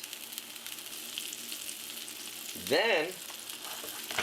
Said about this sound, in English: So let it fry for 2 minutes.